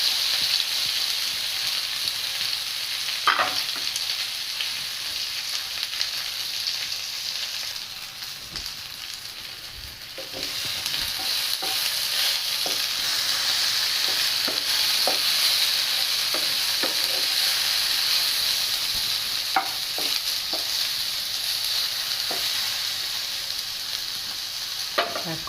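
Pre-boiled banana pieces fry in oil in a pan, giving a steady sizzle with scattered scrapes and knocks of a spatula as they are turned. The hiss dips briefly, then returns louder and keeps going.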